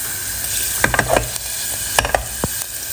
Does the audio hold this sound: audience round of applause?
no